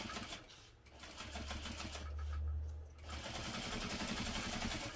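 A sewing machine bastes foam at a quarter-inch seam allowance with a long stitch length, its steady low motor hum running close and continuous for a couple of seconds between quieter handling sounds.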